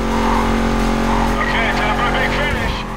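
A race car in the video game NFS Carbon holds a loud, steady engine drone through the whole stretch, rising in pitch partway through with a hint of tire squeal.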